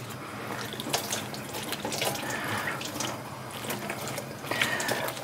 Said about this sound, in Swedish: Tänkte jag skulle skölja bort lite smuts.